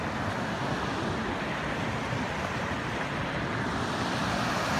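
A swollen stream of rainwater, fed by days of continuous rain, rushes down from the hills near a temple in Satara with a steady, broadband roar and no voices.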